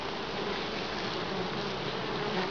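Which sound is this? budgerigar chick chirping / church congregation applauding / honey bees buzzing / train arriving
honey bees buzzing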